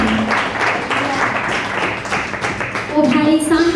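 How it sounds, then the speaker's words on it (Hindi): A church congregation claps for the Lord at a fasting prayer testimony gathering, a steady crowd patter filling the room while a voice speaks over it and tonal sound rises near the end. "हालेलुया, प्रभु के लिए ताली बजाएं।"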